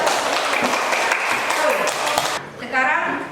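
A classroom group applauds after a student presentation, steady clapping for over two seconds before fading as a voice speaks over the tail end.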